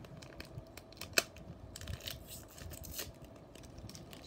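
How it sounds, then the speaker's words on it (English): Scissors snip through the foil wrapper of a Pokemon card booster pack in quiet, faint cuts, with one sharp crisp snip standing out amid soft crinkling of the packaging. "So I'm just gonna get these corners."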